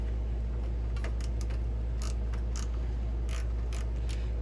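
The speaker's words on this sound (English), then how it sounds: "I'm using a 1/2 inch socket to remove this bowl nut" A 1/2 inch socket wrench ratchets on the carburetor bowl nut of a Husqvarna lawn mower, giving a series of irregular close clicks over a steady low hum.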